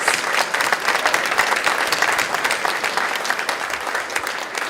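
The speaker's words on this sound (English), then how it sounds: "I think it deserves another round of applause." Sustained applause from a film screening audience, dense and steady, with many hands clapping together at an even loudness throughout.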